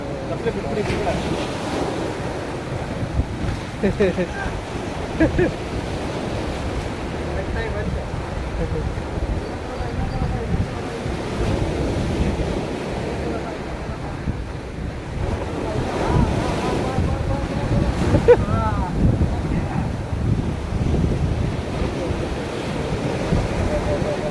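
Sea waves roll and break continuously at the Kanyakumari sunrise point, a steady surf wash mixed with gusty wind buffeting the microphone, with occasional voices of a crowd and boat nearby.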